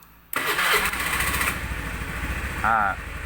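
A Honda Scoopy fuel-injected scooter with a starting fault cranks and fires, its small engine catching abruptly and then idling with a steady close putter, with someone talking over the running engine.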